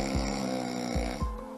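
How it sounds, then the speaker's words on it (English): Snoring from a sleeper with narrowed airways, a low raspy buzzing breath that repeats in two or three short pulses, close and fairly soft with no talking. "snoring a little,"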